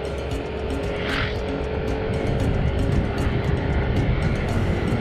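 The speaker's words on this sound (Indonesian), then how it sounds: "Ngagrung motor." Motorcycle engine roaring on a rural road near rice fields in Garut, a continuous loud drone with rising and falling revs heard close up from the rider's position.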